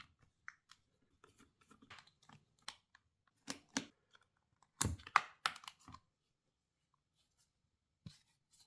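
Small screws being removed from the back of a Nintendo Switch console with no power, heard as sparse, quiet clicks and scrapes of a screwdriver on the casing, with a louder cluster of handling noise midway and a few isolated ticks after.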